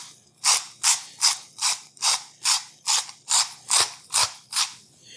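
Whisk scraping rhythmically through thickening gravy in a pan for chicken fried steak, about a dozen quick, even strokes with a bright metallic rasp, close and clear with no talking.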